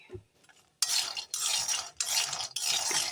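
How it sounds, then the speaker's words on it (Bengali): Lentil dumplings (bori) frying in hot oil, heard as loud bursts of bright sizzling and stirring in three long sections separated by brief pauses, close up, after a quiet opening. "এখন লাল লাল করে বড়িগুলো ভেজে নিচ্ছি"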